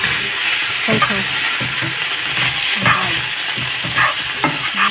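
Chicken, tomatoes and vegetables with oyster sauce and soy sauce are stirred in a frying pan, a loud steady sizzle broken by repeated scraping and clacking spatula strokes at an irregular pace, close up, with no talking.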